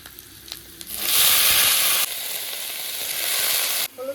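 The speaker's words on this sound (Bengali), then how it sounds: "এবার আগে থেকে কেটে রাখা পাতাকপিগুলো দিয়ে দেবো।" Chopped cabbage drops into a hot wok and bursts into a loud, steady sizzle that swells after a quiet start, dips slightly midway and carries on until a brief drop near the end.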